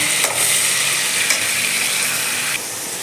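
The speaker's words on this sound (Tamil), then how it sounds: "இப்போ இதை வதக்கிடலாம்." Salted tomatoes sauté in a village-style iron kadai, giving a loud, continuous hiss and sizzle with a few sharp stirring scrapes and no talking.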